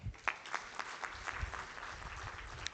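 Audience clapping at a dental conference and awards convocation, a steady patter of hand claps spread across the room, moderately loud and continuous throughout with no talk over it.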